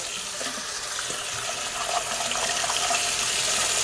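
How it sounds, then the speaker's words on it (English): Cold tap water runs steadily over salted cucumbers being rinsed, a continuous close hiss and splash that grows slightly stronger toward the end. "So I can just, with some cold water,"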